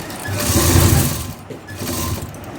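A sewing machine runs steadily while stitching a neckline design on a garment, a continuous mechanical whir that dips briefly partway through and picks back up.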